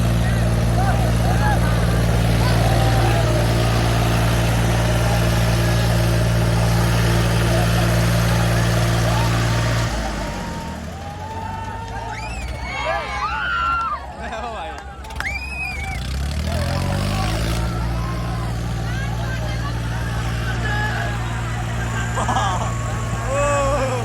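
Swaraj 855 and Swaraj 744 tractors strain against each other in a tug of war, a loud steady diesel drone that drops and roughens midway before building again, with crowd voices and shouts throughout.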